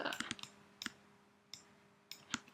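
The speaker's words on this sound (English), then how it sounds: "I'm just going to click and drag these" Computer mouse clicking while dragging items in a tooth-modelling program: a quick cluster of sharp clicks, then single isolated clicks spaced apart, close and quiet with no talk.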